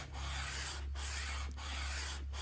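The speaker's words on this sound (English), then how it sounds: "I took this 12-inch radius sanding block with 220 paper on it and just went over the top of it" A 12-inch radius sanding block with 220-grit paper rubs over a wooden guitar fretboard in steady back-and-forth strokes, soft and close, with brief pauses between passes.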